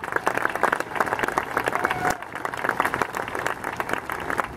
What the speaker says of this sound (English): Now that you're all clapped out